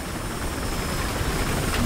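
Helicopter in the game Battlefield Hardline, a steady whirring rotor and engine drone that holds close and constant across the moment, with no talking over it.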